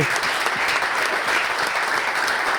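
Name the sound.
audience applause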